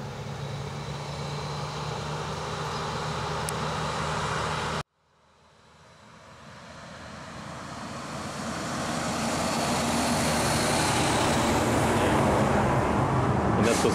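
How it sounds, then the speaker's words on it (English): A tractor trailer truck on a rural Virginia highway passes close by. A steady engine and tire roar stops abruptly, then a new rumble swells gradually to a loud, sustained drone, with no voices. "there's another tractor trailer coming"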